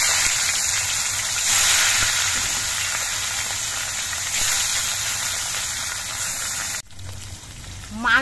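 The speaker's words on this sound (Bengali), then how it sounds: "এবার মাছগুলো ভেজে নিচ্ছি।" Fish frying in hot mustard oil in a wok, a loud, dense hiss and sizzle that holds steady for most of the time before dropping off sharply near the end.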